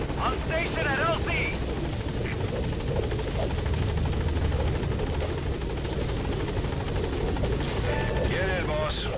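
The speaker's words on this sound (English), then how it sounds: "Support helicopter has arrived." Support helicopter arriving in the video game Metal Gear Solid V: The Phantom Pain, a steady loud rotor roar filling the whole stretch, with brief radio-style voices cutting in over it.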